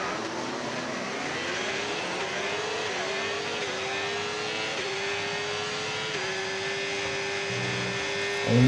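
Formula 1 cars in a racing video game pulling away on the formation lap, a continuous loud engine drone that climbs in pitch through repeated gear changes, with a louder burst at the very end.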